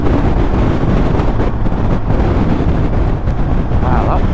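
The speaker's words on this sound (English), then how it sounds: "that wind is really picking up now" Strong wind buffets the microphone while riding across a bridge in Northumberland, a loud, continuous roaring rumble with no break.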